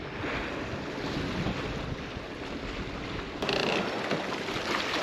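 Strong wind roars over a lake during bass fishing from a boat, a steady loud rushing buffet against the microphone with water lapping underneath and a sudden gust bump partway through.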